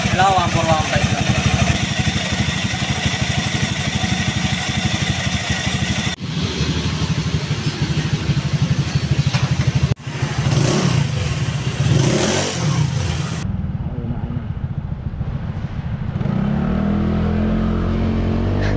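A Honda Click 125 scooter engine starts and idles at high RPM, a steady close-up motor drone with some revving. Someone talks over it before the engine noise settles lower.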